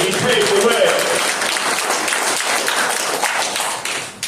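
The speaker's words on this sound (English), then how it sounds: "We should give him a great round of applause because he paved the way." Audience applause at a Southern Brooklyn political gathering, a dense wash of clapping that stays loud and steady for the whole stretch, with voices mixed in.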